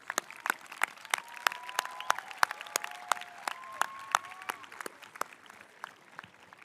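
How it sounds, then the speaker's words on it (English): A graduation crowd gives a warm round of applause at a Marysville Exempted Village Schools ceremony, fairly soft and distant, with scattered crisp claps and a thin whistle rising over the clapping midway. "please join me in giving them a warm round of applause."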